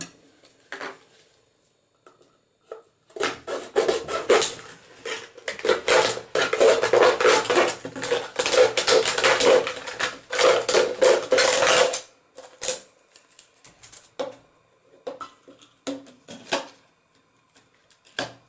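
A plastic bottle is cut through, giving a dense run of crackling, crunching plastic for several seconds, with sparse snips and handling sounds before and after.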